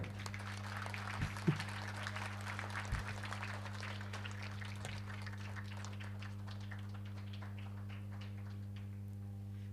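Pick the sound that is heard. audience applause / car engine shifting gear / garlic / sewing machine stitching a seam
audience applause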